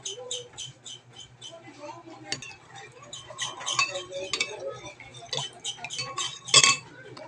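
A spoon stirs cornstarch and water in a bowl for mango graham ice candy, giving quick repeated light clinks and scrapes close by, with someone talking over them.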